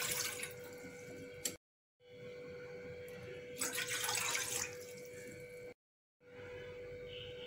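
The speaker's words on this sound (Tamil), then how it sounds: "ஒரு பாத்திரத்தில் 2 கப் தண்ணி சேர்த்துக்கலாம்." Two cups of water pour from a vessel into a cooking pot for a masala rice dish, a steady splashing rush broken by two short silences and a louder surge midway.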